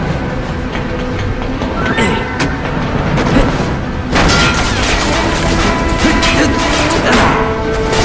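A train rumbles along steadily in Final Fantasy VII: Crisis Core, a loud, dense clatter with sharp metallic hits mixed in, and it is still running when a sudden heavier burst arrives partway through.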